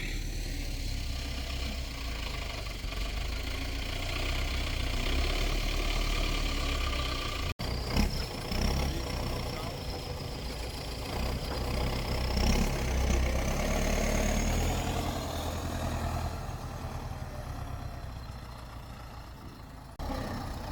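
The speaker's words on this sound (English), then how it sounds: "just have a tractor here to get them moved to where we want them" A heavy tractor engine idles steadily with a deep rumbling drone throughout, its pitch rising slightly midway, with a single sharp click partway through.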